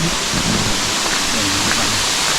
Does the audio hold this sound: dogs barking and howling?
no